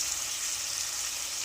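Chopped green chillies and turmeric fry in hot oil in a pan, a continuous bright, hissing sizzle that stays even and close throughout, with no talking.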